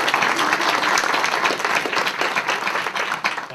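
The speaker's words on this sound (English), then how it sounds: "Let's give her a round of applause." Dense, loud round of audience applause at a gubernatorial candidates' forum on protecting natural resources, sustained clapping throughout that tapers slightly at the end.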